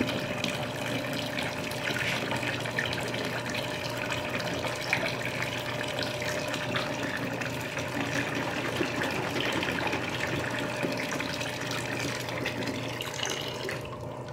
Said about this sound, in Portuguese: vou enxaguar aqui